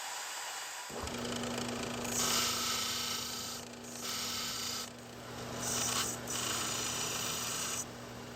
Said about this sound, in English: So I'm going to get to work filing that out.